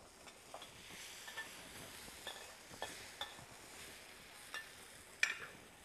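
Mushrooms (enoki and another variety) frying in oil in a wok at a vegetarian cooking demonstration, with a soft continuous sizzle broken by light clinks and scrapes of a utensil, close and fairly quiet, no talk.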